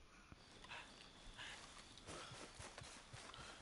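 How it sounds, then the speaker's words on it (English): Horse hooves clip-clop in the Western game Red Dead Redemption 2, a quiet, irregular patter of footfalls heard faintly through the game's ambient background. "Arthur's horse"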